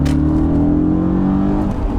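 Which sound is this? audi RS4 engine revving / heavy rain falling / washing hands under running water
audi RS4 engine revving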